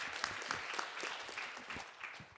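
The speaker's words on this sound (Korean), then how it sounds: "큰 박수 보내주세요." A conference audience at an AWS generative AI business session claps steadily, a dense, even wash of applause lasting the whole short stretch with no speech over it.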